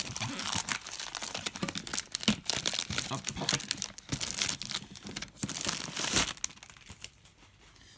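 A cardboard Pokémon treasure box is torn open, with loud, close crinkling, tearing and crunching of card and packaging that stops near the end.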